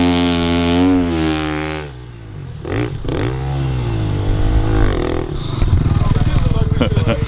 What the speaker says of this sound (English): the motocross boys are also having a practice with their skills